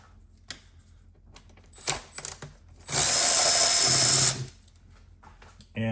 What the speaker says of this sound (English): let's go to power ratchet